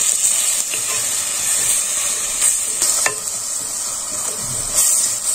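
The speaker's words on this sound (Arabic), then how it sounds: "نحط البصلايه يا دوب تتشوح" Chopped onion sautéing in a pan for a potato, sausage and cheese casserole, giving a steady close sizzle and hiss with a few soft stirring scrapes, no talking.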